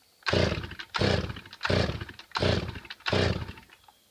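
A flooded chainsaw set to half choke is pull-started five times in a steady rhythm, each pull a loud, close, brief rasping whirr of the recoil starter with a sputter, and the engine never catches.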